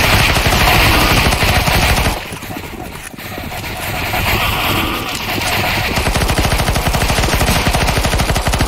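Dense, continuous automatic gunfire from CS:GO zombie escape mode, loud and rapid throughout with a brief dip midway, shots rattling on with some background voice.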